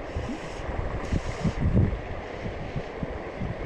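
Strong wind buffets the microphone beside a shallow river during fly fishing, giving a steady loud rushing roar with low gusty thumps throughout and no talk.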